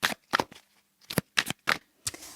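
Tarot cards are shuffled and drawn by hand in a quiet room: a handful of short, crisp riffling bursts with brief pauses between them, close and fairly soft.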